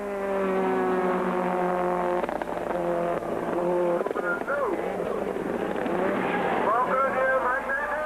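Rally cars race on a circuit during a 2006 Cape Rally event, with engines droning and shifting pitch as they pass and brake; a voice talks over the motor noise throughout.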